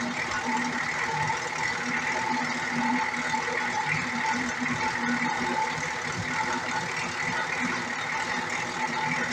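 A Ford Bullnose truck engine idles steadily just after starting, a continuous close, loud, rough mechanical drone with an even rhythm throughout and no clear talk.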